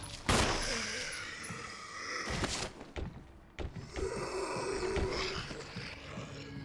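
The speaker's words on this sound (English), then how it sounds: "I'm going to use my handgun for the first time here." Handgun shots at zombies in Resident Evil HD Remaster as Jill, a few loud separate bangs with spaced echoing reports, followed by ambient game rumble and faint voices.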